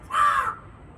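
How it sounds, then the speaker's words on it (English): A crow caws once, loud and close, a single harsh call that cuts off quickly against quiet outdoor background. "Crow."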